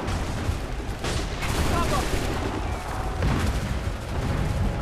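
Gunfire from an Assassin's Creed 3 battle, with a busy, dense wash of shots and booms running throughout at steady loudness, and no clear single reports standing out.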